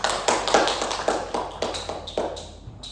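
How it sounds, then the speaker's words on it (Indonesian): Students in a micro-teaching maths lesson clap for a classmate in a steady, rhythmic pattern, several sharp claps about half a second apart over a low background hum. "Tepuk tangan untuk Rizal."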